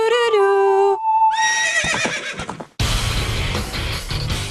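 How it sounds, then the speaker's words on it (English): A horse in The Legend of Zelda: Ocarina of Time answers its song with a loud, close whinny. Melodic tones come first, then the neigh, followed by a burst of game sound effects. "So to call your horse to you, you have to play its song."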